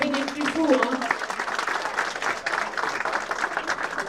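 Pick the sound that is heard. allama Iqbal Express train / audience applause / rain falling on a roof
audience applause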